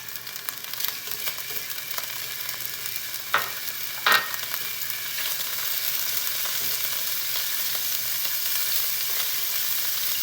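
Minced jarred garlic sizzles steadily in oil in a large pan, a continuous hiss with a couple of brief clinks from stirring partway through.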